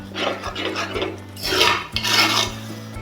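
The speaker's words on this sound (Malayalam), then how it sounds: "നമ്മളിങ്ങനെ ഇളക്കി കൊടുക്കുക. അടി പിടിക്കാൻ സമ്മതിക്കരുത്." A spoon stirs ground shallot masala in a pan for Chennai-style country chicken chaps, giving steady scraping and rasping strokes that rise and fall close by, with no talk.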